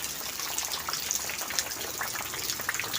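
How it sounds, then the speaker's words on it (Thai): Heavy rain pours over a tropical durian orchard with banana and papaya trees, a steady dense hiss of falling water with scattered drip and splash accents, continuous and fairly close, with no talking. "ฝนตกหนักแต่ตกไม่นานค่ะทุกคน"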